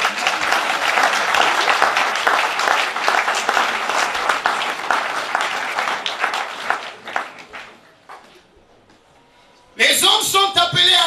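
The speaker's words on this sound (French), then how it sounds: "Acclamez le roi de rois" A church congregation clapping and cheering loudly, dense sustained applause that thins and fades out, a short near-silent pause, then a voice speaking.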